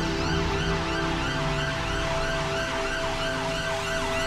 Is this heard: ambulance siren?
yes